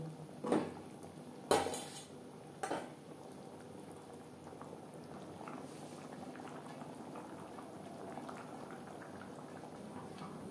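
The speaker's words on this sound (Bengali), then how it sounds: "গ্রেভির সাথে ডিম আরও 3-4 মিনিট রান্না করব" Egg curry simmers in gravy in a pot with a soft, steady bubbling, preceded by a few clanks of a utensil against the pot early on. Quiet and close, no voices.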